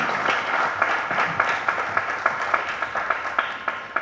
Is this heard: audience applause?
yes